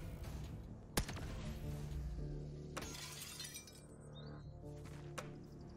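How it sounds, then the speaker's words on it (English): Window glass shatters in Xenonauts 2, a sharp crack followed by a dense spray of breaking glass, then further tinkling and a couple more sharp impacts over a low background. "Plus smashing window."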